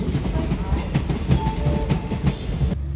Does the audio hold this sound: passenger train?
yes